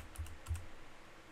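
Numpad keys on a computer keyboard are pressed twice, two quick soft clicks close to the microphone in an otherwise quiet room.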